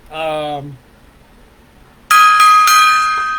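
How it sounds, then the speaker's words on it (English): A bell rings out as a salute: one clear resonant strike that decays, then after a short pause a brighter, sustained ring with a couple of quick repeated strikes, close and loud. "3-bell salute for her, 3-gong salute for her"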